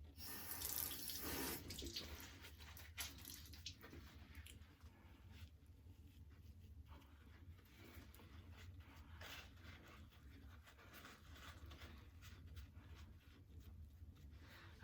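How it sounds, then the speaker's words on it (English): Tap water runs steadily into a sink while hands are rinsed under it during a home hair-dyeing session, a soft continuous splashing at moderate distance with a brief louder gush at the start. "I'm washing my hands"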